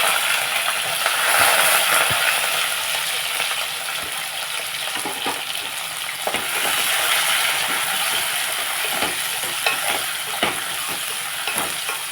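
Onions and green chillies sizzle steadily in a hot pan with a little salt, with scattered scrapes and clinks of stirring throughout and no talking.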